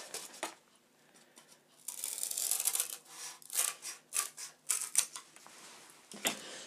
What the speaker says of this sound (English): It can easily be cut with scissors.